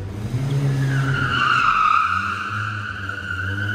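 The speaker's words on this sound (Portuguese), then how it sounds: "o Boquinha vai fazer um driftzinho" Chevrolet Opala drifting, its tires squealing in a loud, wavering high screech for a couple of seconds over a low engine drone.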